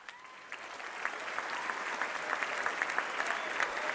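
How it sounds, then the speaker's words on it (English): Sustained applause from an audience at an Army birthday ceremony honoring the Best Ranger Competition winners, dense steady clapping with a few sharper individual claps, moderately distant and alone without talk. "Give them a big round of applause"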